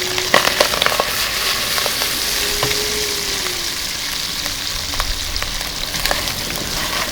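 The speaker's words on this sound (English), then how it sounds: "So brown these off until they get a nice colour on all sides." Oxtails browning in a pot, giving a steady crackling sizzle with frequent small pops and spits, close and constant throughout with no talk.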